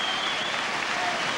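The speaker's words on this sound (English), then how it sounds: "Getting great reception from the crowd" Rugby league crowd at Bradford versus Australia on the 1982 Kangaroo Tour applauds a substituted player, a steady dense wash of clapping filling the stadium throughout, with faint commentary voices underneath.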